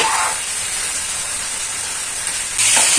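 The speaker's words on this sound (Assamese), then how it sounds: "এতিয়া মাংসখিনি 10 মিনিটৰ কাৰণে এনেকৈ ল' ফ্লেমত" Chicken frying on a low flame gives a steady, close hiss and sizzle, swelling briefly louder near the end, with no one talking.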